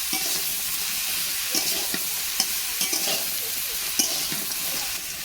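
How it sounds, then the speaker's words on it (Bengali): Chopped green papaya frying with prawn legs in a pan for a Bengali curry, a steady close sizzle with repeated scraping stirs and light utensil clicks throughout, no voices. "পেঁপেটা কিন্তু আমি এখন পাগুলোর সাথে ভেজে নিয়েছি"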